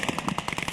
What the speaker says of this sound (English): machine gun crew off to the left